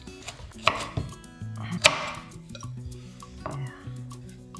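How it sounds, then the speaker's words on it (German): A knife cuts the end off a carrot on a cutting board, giving a few firm chopping knocks and crunches over a background of tonal kitchen sounds, close and with no speech. "das Ende schneide ich mit dem Messer"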